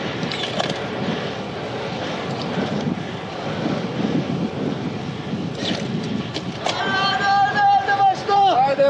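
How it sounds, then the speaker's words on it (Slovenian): Wind buffets the microphone during a mountain ascent to Areh, producing steady rough roaring gusts throughout. The noise strengthens near the end, where a brief voice-like tonal sound rises over it. "Zdaj imam veter fajn."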